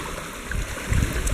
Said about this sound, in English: So this is the sluice in action, rubber mat on the top,